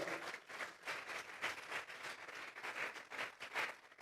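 A church congregation claps hands together in rhythmic bursts during a worship service, soft and somewhat distant, with a roomy, reverberant tone.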